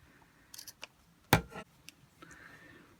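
Scissors snip through sewing elastic cut to length for a doll's trouser waistband: a few light clicks, then one sharp close cut with a brief rasp, quiet and near with no talk.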